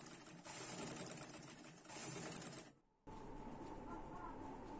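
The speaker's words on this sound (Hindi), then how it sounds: "अब हम इसमें पीछे के गले में बैठी सिलाई लगाएंगे बिल्कुल किनारे पे" A sewing machine stitches the back neck seam of a gown with a continuous rapid whirring run, briefly pauses and then starts stitching again. The sound is faint and comes with no talking.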